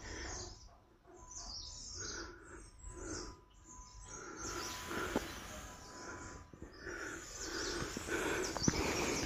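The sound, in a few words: various birds chirping outdoors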